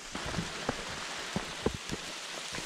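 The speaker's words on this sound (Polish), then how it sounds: "Deszcz padał bez ustanku" Steady heavy rain pours down on a mountain trail on the way up Wielka Czantoria, a dense continuous hiss broken by a few louder close drops and taps striking nearby surfaces.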